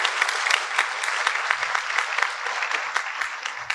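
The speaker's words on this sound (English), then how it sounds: "can we all give them a great big round of applause?" Sustained audience applause fills an awards ceremony hall, dense and steady clapping from a crowd with no voices over it.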